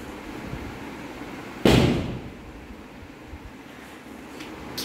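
A firecracker bursts once at close range, a single sharp crack that fades over about a second against steady outdoor background noise.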